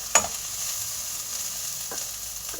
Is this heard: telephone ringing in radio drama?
no